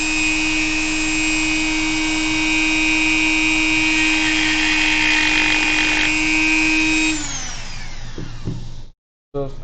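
A Dremel rotary tool spins at 15,000 RPM against plastic with a loud, steady high-pitched whine that holds for about seven seconds, then drops in pitch as it winds down and cuts out.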